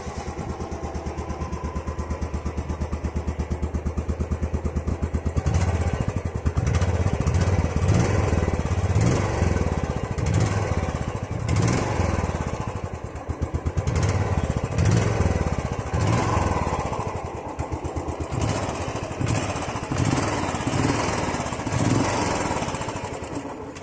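Old-model Royal Enfield Classic 350 single-cylinder engine running close by with a steady rapid thumping idle, loud and unbroken, with slight blips in pace.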